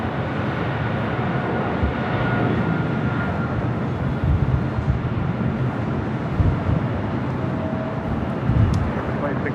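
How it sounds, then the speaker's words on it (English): A Boeing 777 rolls down the runway at LAX, a steady, broad engine roar and rumble heard from a distance outdoors, with some wind noise throughout. "All right, the 777 heading to London Heathrow,"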